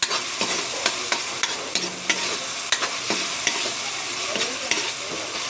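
Crushed peppercorns stirred in a hot cooking pan for adobong kangkong, a continuous frying sizzle with regular scraping taps of the utensil.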